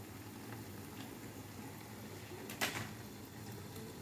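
Noodles for jjajangmyeon simmer in a pot of boiling water, a faint, steady bubbling with a brief clatter near the end and no voices.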